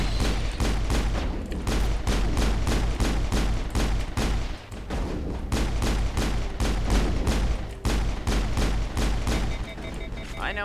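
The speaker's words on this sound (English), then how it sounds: "she's using a pistol, and he's using a shotgun" Pistol and shotgun fire in Mass Effect combat: a steady barrage of loud, closely spaced shots rings out continuously over a low rumble for about ten seconds, with no pauses for speech.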